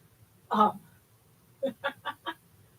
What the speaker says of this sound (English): you're asking why is there a duck in the house? Because that's our pet.